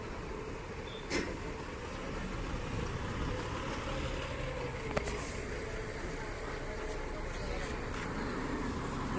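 Steady rumble of road traffic as a bus pulls out of the crowded Pandharpur bus stand on the Pandharpur–Humnabad route, a few brief clanks and knocks over the continuous engine drone.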